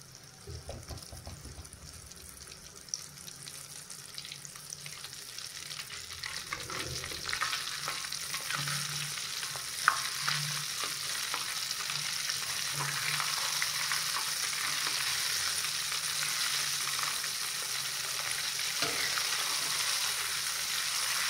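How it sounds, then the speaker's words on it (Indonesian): Pieces of chicken fry submerged in hot oil over medium heat, a steady loud sizzle and crackle with occasional spatters and a few bumps from stirring, continuing without talk. "usahakan untuk goreng ayamnya tuh benar-benar terendam minyak"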